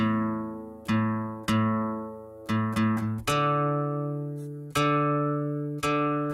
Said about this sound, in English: I need to check the tuning on this thing.